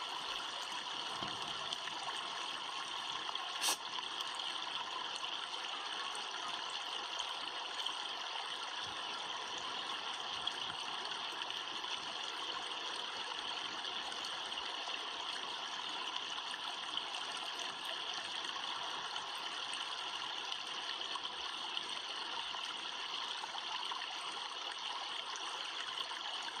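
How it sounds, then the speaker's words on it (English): Constant gentle rush of flowing stream water, steady and unbroken, heard quietly on its own. "I love watching water and I love listening to water."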